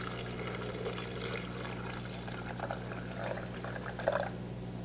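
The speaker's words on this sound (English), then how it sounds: "Now, add a little bit, like I would say like 1 cup of coconut water." About a cup of coconut water poured into a blender for making nut milk, a steady liquid pour over a low appliance hum, moderately quiet with a small splash near the end.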